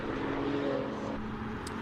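Audi TT RS race car with a 2.5-litre five-cylinder engine running at a hillclimb, a steady droning engine note held through the clip with no clear pass-by swell, mid-distance over outdoor ambience.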